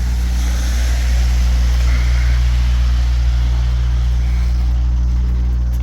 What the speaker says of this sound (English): That truck running's kind of loud.